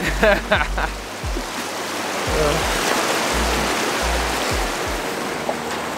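A small Georgia trout stream flows over rocks in a steady, close rush of water. It fills the whole clip, with a few low thumps mixed in.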